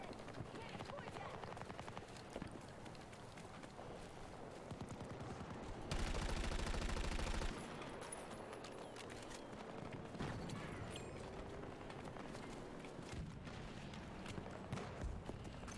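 Video-game gunfire crackles in rapid bursts, including a dense loud volley partway through, mixed with clattering effects and busy game noise.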